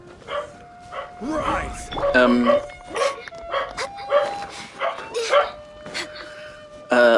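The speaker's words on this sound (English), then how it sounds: "Oh, there goes the dog." Off-mic, a dog barks intermittently in the background while a person talks almost continuously over it.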